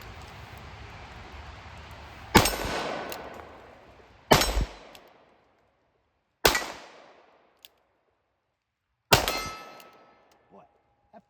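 A Colt Anaconda revolver fires .45 Colt rounds, four loud, sharp shots spaced a couple of seconds apart, each with a short ringing decay into near silence.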